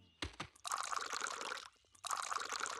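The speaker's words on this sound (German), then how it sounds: "Viertens, gießen Sie die einzelnen Setzlinge." Cartoon water pouring onto garden seedlings, two bursts of splashing, trickling liquid separated by a short pause, preceded by a couple of quick thuds, close and clear.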